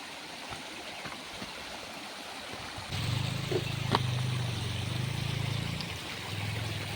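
A river rushes continuously in a broad hiss, and about halfway through a low engine-like drone joins in and keeps running.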